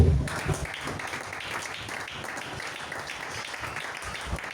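A congregation at a church service applauds in a steady, sustained wash of many hands clapping, fairly loud and even throughout, following a brief low sound at the start.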